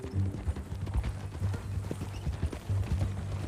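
Horse hooves clip-clopping at a steady walking pace in Red Dead Redemption 2, close and clear against a low ambient hum, with a brief whinny-like murmur and no talk.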